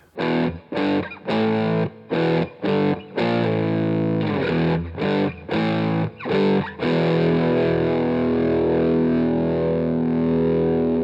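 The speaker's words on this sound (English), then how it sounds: "you start to learn power chords, and then you do it this way" Distorted electric guitar power chords playing a main riff, struck in short, choppy bursts separated by brief silences, ending with a long sustained chord ringing out.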